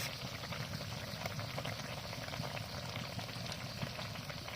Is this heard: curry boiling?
yes